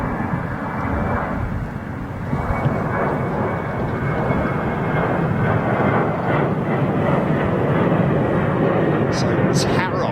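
A Boeing 737 jet passes overhead near London Heathrow, its engines giving a loud, steady broadband roar that builds slightly and holds through the whole stretch, with faint talk mixed in.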